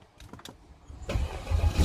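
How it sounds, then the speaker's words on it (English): A Mercedes S500 AMG engine catches and starts after faint clicks from the ignition, then settles into a steady, moderately loud rumble. No one speaks. "Oh, the car started."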